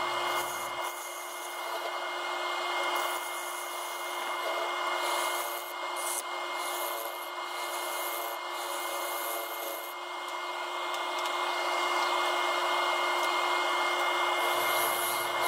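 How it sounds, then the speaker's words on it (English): A Carter and Son skew chisel flattens the bottom of a wooden bowl turned from a log on a lathe, producing a continuous, loud, rushing scrape over a steady motor hum that barely changes throughout. "here's the skew chisel that I'm using to flatten the bottom"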